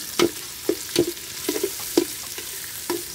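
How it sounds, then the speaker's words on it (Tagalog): Onions being sautéed and stirred in a hot pan for pork adobo, with soft sizzling under repeated, irregular scrapes and clanks of a utensil against the pan, close and moderately loud. "Gisa-gisa lang tayo."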